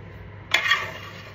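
Salted and peppered beef dropped into melted butter in a hot pan sets off a sudden, close sizzle that swells and then holds as a steady hiss.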